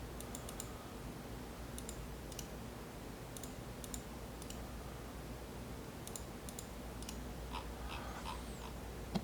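Quiet, sharp mouse clicks come in small clusters while a sign design is edited on a computer, with several quick taps and pauses between them. The clicks are faint and close over a steady low background hum.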